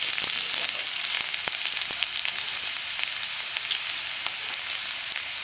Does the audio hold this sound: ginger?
yes